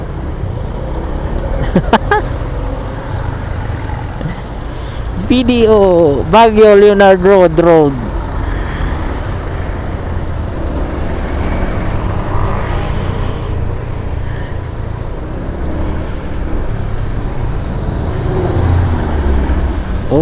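Slow traffic on a mountain road in Baguio heard from inside a vehicle, a low steady engine and road rumble running beneath close conversation and laughter throughout.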